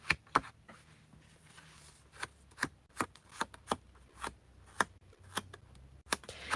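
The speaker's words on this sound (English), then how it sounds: "you just bend your paper in your hand" Paper is bent and crumpled by hand, giving sharp intermittent crinkles and snaps at an uneven rhythm against a quiet background, close and fairly soft.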